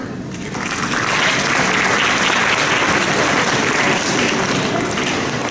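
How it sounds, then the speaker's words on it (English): Parents applauding at a school awards day in Jeddah, a large audience clapping steadily and loudly for several seconds after a brief quiet start. "can you please give yourselves a round of applause?"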